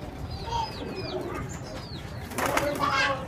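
Racing pigeons in a loft coo softly, with short calls and a brief flutter of wings nearby, followed by a louder burst of movement and rustling.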